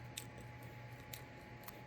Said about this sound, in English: I'm just going to cut off this yarn here.